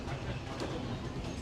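A passenger train rolls along rails, a steady moderate rumble with faint rhythmic rail noise throughout and no speech.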